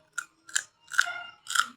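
Crunchy okra is chewed close up, four crisp bites and crunches spaced out over a silent background.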